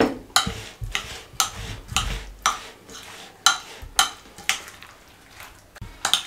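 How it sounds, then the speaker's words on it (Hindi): A spoon clinks and taps against a bowl in a steady, uneven rhythm as Russian salad with carrots and pomegranate is mixed, close and fairly loud with no talking. "और इसको अच्छे तरीके से मिक्स कर दें।"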